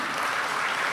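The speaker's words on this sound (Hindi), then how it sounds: "वाह, शाबाश, ताली बजाओ।" Steady, dense clapping from an audience at a spiritual talk, a continuous burst of many hands close and fairly loud with no voices over it.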